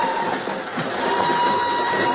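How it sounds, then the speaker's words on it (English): Steady rumbling of a northbound passenger train rolling out of Lisbon, created as a radio drama sound effect, a continuous moderately loud wash of track noise with no voices over it. "she's aboard a northbound train rolling out of Lisbon"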